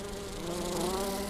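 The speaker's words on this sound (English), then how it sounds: "I'm a bee, and I bumbled my way into your car." A bee buzzes inside a car in an auto insurance advert, a steady close droning hum that continues unbroken, with no talk.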